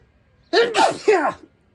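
A single loud sneeze breaks through near silence, a quick two-part burst that fades out.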